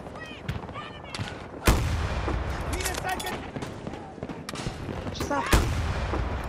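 M5 84mm recoilless rifle fired in Battlefield 2042, two heavy booming shots a few seconds apart amid scattered distant gunfire and battlefield noise, with someone talking over it.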